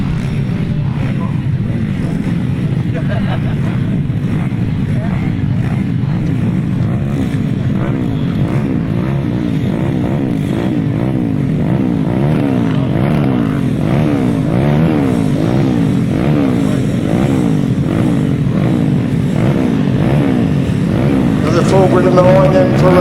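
GT140 grasstrack motorcycles race with a continuous buzzing engine drone that swells and shifts in pitch as the bikes pass, while an announcer talks over the noise throughout.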